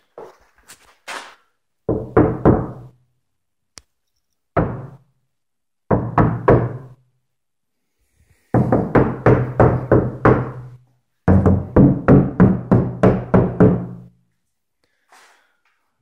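Knuckles knock on the roof of a Thunderbird Turbo Coupe after sound deadening has been applied, in several bursts of rapid dull thuds separated by silences, close and fairly loud with no talking.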